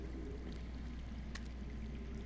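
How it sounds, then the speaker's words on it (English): Water trickles steadily underground in the Game of Thrones Telltale video game, a continuous low, soft wash of flowing water that stays even throughout with no voices. "That's water."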